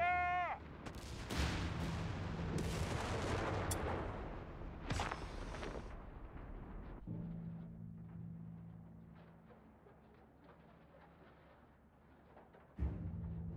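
Enemy gunfire and artillery from Company of Heroes 3 arrive as several heavy booms and bursts in the first half, then thin out to a quieter, distant rumble with one late thump.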